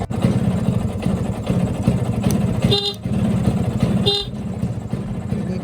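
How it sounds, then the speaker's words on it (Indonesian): A Vespa PX scooter engine idles steadily up close with a constant low, throbbing rumble. Two short toots from its DC electric horn cut in briefly. "makanya saya nyalakan mesinnya ya teman-teman."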